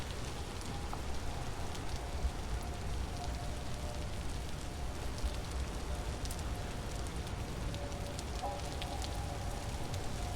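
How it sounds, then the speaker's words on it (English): Steady rain falls in the Vintage Story survival game, a dense, even hiss with scattered drops pattering on surfaces, continuous for the full stretch with no talk. "it's because it's in the rain"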